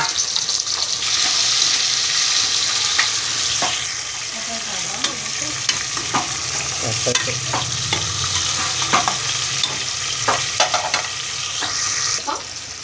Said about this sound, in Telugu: నెక్స్ట్ టమాటాలు అయితే వేసుకుందాం వేయించుకుందాం బాగా ఉడికే వరకు